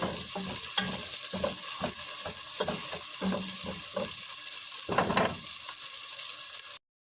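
Onions frying in a generous amount of oil until golden, heard as a soft steady sizzle with irregular stirring scrapes and clinks, close, no talk, cutting off abruptly at the end.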